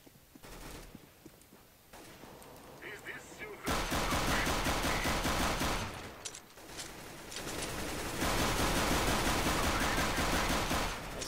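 Sustained automatic gunfire in Counter-Strike: Global Offensive, long rapid bursts of loud shots, with shorter pauses and scattered single cracks between them.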